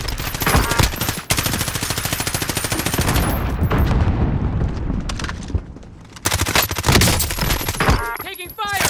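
Rapid automatic gunfire from the Call of Duty: Modern Warfare video game, loud, dense bursts and sustained fire across most of the stretch, a brief lull midway, then renewed shots.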